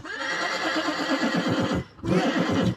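A horse neighs loudly and close by in a long, shaky whinny, breaks off briefly, then calls again with a second whinny.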